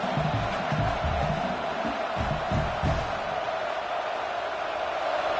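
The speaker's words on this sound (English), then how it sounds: "This crowd trying to do its part to get inside the kicker's head." Crowd noise from a college football stadium holds as a steady, dense roar throughout, with a few louder swells and shouts early on and no clear speech on top.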